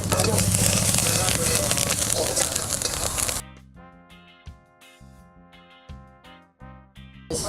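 Onion, chilli and curry leaves frying in oil in a pan for Ajantha pulao, a loud dense sizzle for about three seconds, then quieter, with scattered clicks over background music.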